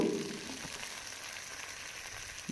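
Steady soft sizzling of tomatoes added to oil for an amudi fish curry with green chilies, a continuous close frying hiss at even level, alone without talk.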